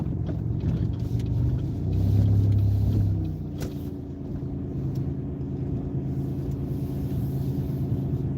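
A car creeps forward slowly while parking, its engine a low steady rumble with a brief swell partway through, close and alone with no talk.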